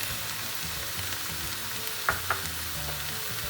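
Karnıyarık filling of minced meat, tomato and black pepper frying in a pan, a steady close sizzle with a couple of sharp spoon clinks against the pan as it is stirred, no voices.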